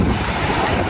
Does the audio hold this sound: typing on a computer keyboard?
no